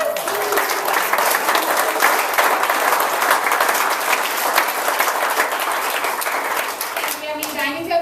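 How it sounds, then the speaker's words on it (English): An audience at a Super Saturday business event applauds with dense, continuous clapping that stays loud for the whole stretch, while cheers and a voice come through near the end. "applaud you guys for these"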